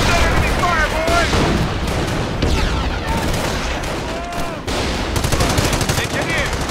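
Dense gunfire and rapid machine-gun bursts in the Company of Heroes war strategy game, loud and continuous with overlapping shots and booms while game voices call out over the battle.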